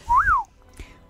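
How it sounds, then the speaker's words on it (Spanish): A single short whistled note sliding up and back down, fairly loud and close, followed by a quiet pause with faint background noise. "Te juro que no sabes silbar."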